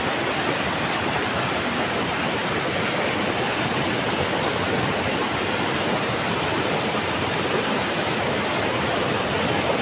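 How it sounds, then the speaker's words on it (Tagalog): Mantayupan Falls in Barili, Cebu, a tall waterfall, roars as a dense, constant wash of loud broadband rushing water that fills the scene without pause and without voices. "Super kataas ng mga falls."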